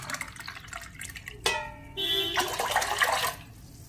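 A spoon stirs chia seeds into lemon water in a glass, giving a couple of short ringing clinks and a soft swirl of liquid, close and fairly quiet.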